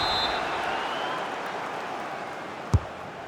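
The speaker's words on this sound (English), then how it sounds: "the crowd is certainly trying to motivate the players to get the equaliser" Stadium crowd noise from an FC 26 football match between Chelsea and Manchester United, a steady broad roar of cheering supporters sustained throughout, with one brief sharp thump near the end.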